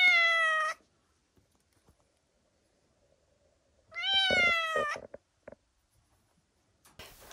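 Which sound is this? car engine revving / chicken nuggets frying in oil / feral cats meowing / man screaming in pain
feral cats meowing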